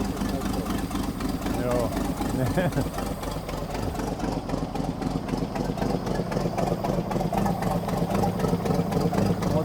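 A motorhome engine idles at low revs with a steady low throbbing rumble under close conversation, as people talk throughout.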